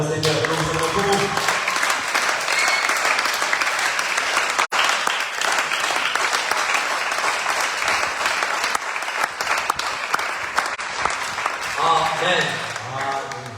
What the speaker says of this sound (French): Est-ce que nous pouvons acclamer pour le Seigneur?